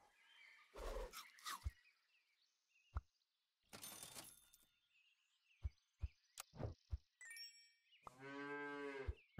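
A cartoonish cow moo from the Super Auto Pets video game closes a string of short, sharp game effects and clicks separated by silence; the moo is the longest and fullest sound.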